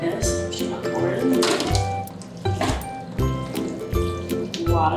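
Thick mac and cheese slides and plops wetly into a buttered pan, with soft squishy thunks and spoon scrapes close up, and a voice talking over it throughout.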